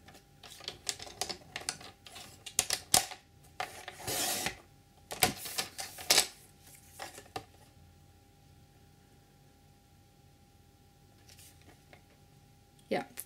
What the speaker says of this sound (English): So I'm using my paper trimmer, and I'm going to cut a few strips